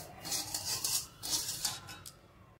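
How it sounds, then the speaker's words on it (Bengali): Semolina being stirred in a pan while it fries in ghee and refined oil for suji halwa, a close rasping scrape in short repeated strokes over a soft low sizzle. "ঘি রিফাইন দিয়ে এটা বেশ করে দেখুন আমি ভেজে নিলাম"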